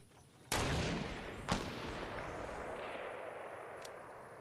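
Sniper gunfire in a video game: one sharp, loud shot with a long rolling echo, then a second crack about a second later, with a faint distant pop near the end.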